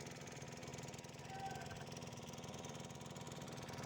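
A boat engine drones steadily during a river ride near Omkareshwar and Mandhata island, a continuous mid-pitched motor hum with a faint, even pulse and no break.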